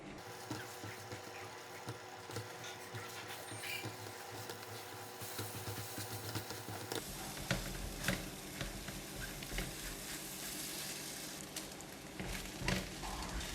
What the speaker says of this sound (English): When the oil in the pan is hot, pour in all the eggs